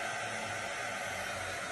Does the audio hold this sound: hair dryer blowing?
yes